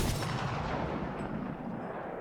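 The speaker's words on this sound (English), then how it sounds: "Did you throw a fucking incendiary grenade at me" A roaring, crackling burn from an incendiary grenade in the video game Apex Legends, loud and close, a dense wash of noise that holds steady across the whole moment with no talk.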